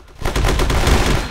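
Loud, close automatic gunfire rattles in rapid repeated shots during a VR shooter match, with no talk over it.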